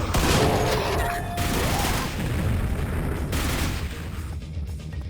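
Rapid gunfire in the Quake video game, a grenadier gunned down in a dense run of loud shots and blasts over a brutalist-style map's rumbling ambience.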